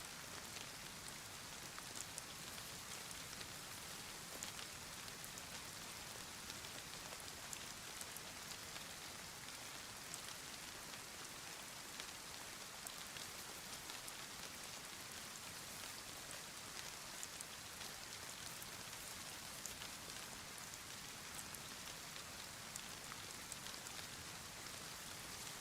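Steady rain falls in the DayZ game world of Chernarus, a dense, even hiss of drops on surfaces running unbroken, with no other sounds or voices.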